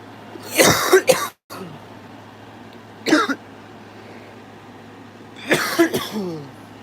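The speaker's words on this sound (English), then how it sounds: "Or cough, like I just coughed," Someone coughs three times nearby, a double cough, then a single one, then another harsh burst, with quiet pauses between.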